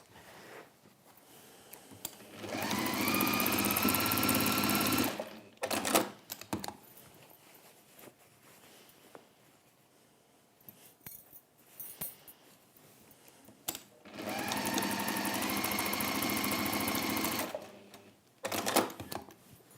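Two short bursts of a sewing machine stitching across a flattened fabric seam, close and fairly quiet, separated by light handling clatter and quiet pauses.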